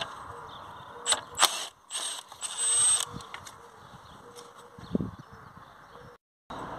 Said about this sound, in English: Now we can get this bolt off.